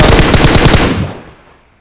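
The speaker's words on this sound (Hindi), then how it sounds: "मैं वेट करता हूँ, ऐसे ही छोटे मोटे फायर करता हूँ" Automatic gunfire in a battle royale video game: a loud, rapid burst of shots at close range, cut off abruptly and followed by a short fading echo.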